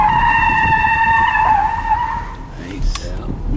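A car slides on a wet track during a skid-control driving exercise, its tires giving a loud, sustained squeal that holds steady for about two seconds and then breaks into shorter chirps, with an instructor talking over it.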